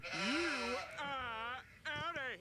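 A sheep bleating sound effect, several drawn-out wavering bleats in quick succession, loud and close, with a voice speaking around them.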